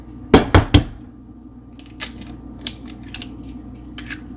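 Egg and vanilla extract being mixed for sweet potato cookies, a few sharp clinks of a utensil against a bowl followed by lighter, scattered taps, close up with no talking.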